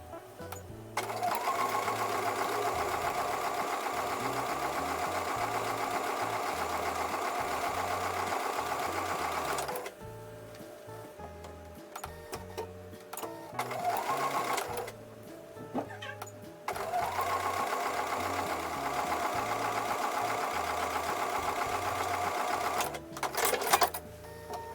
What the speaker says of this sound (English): I'm going to go back over to the sewing machine and sew on top of the line.